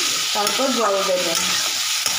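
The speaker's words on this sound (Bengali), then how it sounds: "এবার ভালো করে একটু কষিয়ে নেব" Ginger paste and sugar sauté in a hot pan with a steady, close sizzling hiss throughout, while a voice speaks briefly over the cooking.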